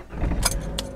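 Keys jangle close up at the ignition of a rental car as someone goes to start it. Two short, bright metallic rattles sound over a low hum inside the cabin.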